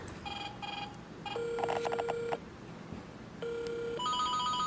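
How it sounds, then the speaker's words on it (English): A toy Santa telephone tree ornament made from a dollar-store piece plays electronic phone sounds: bursts of ringing tones and button beeps in several separate bursts, close and clear over light background hiss. "This phone is really cool because it does make sounds, so it is interactive like the real little Santa phones."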